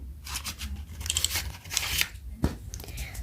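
Cardboard and paper rustle and scrape as a Samsung Galaxy S21 FE 5G box is opened and its contents handled, close up, with brief crinkles and a sharp tap near the end.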